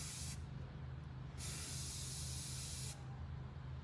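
An aerosol spray can hisses in two long, steady bursts while glitter is applied, close and alone with no talk.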